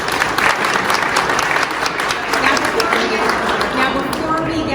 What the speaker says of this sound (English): let's give one more round of applause to David